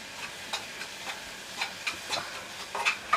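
Ginger and garlic sautéing in a pan, with a steady soft sizzle broken by repeated light scraping stirs, close and fairly quiet, with no talk.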